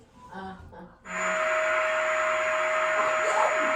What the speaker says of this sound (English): Might be a hair dryer, might be a vacuum. Oh, it's a vacuum.